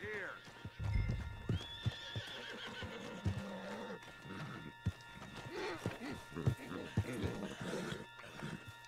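A horse in Red Dead Redemption 2 whinnies and clip-clops, hooves thudding at close range beneath a voice talking over it, fairly quiet overall.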